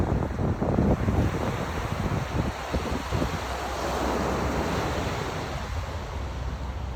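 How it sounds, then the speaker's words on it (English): Ocean surf on a calm day along the Western Australia coast, a steady close wash of breaking water mixed with gusty wind buffeting the microphone, no voices. "Not too many waves."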